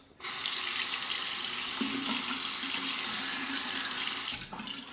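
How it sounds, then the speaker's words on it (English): Tap water runs in a steady, loud, continuous stream while a razor is rinsed between shaving strokes, with no voices over it. "Rinse."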